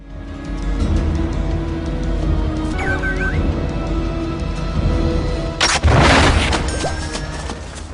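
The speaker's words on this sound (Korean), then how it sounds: "원래 화승총이나 플린트락 같은 총은 나갈 때 펑 소리보다는 착, 슉 그런 소리가 훨씬 어울려요." A flintlock musket fires in a film as a loud, sharp burst over a dense, booming battle soundscape, with a continuous rumble throughout.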